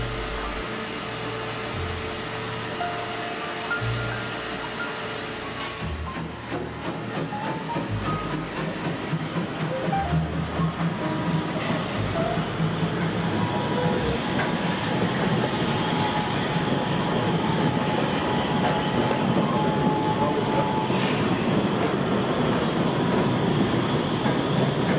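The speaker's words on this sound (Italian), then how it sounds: "l'ultimo treno della giornata" A train rumbles past at a station in Saxony with a broad rushing roar and rhythmic clatter of wheels on rails, growing louder and more rattling as it goes by.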